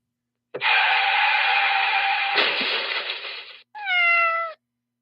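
A long, drawn-out cat yowl followed by a shorter, wavering meow, both loud and close, with a brief clattering crash in the middle.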